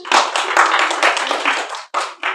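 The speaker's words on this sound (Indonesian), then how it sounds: "Tepuk tangan dong." A small group claps for a correct answer in an informal quiz, close and loud, a brisk burst of hand claps with a short break before a final few.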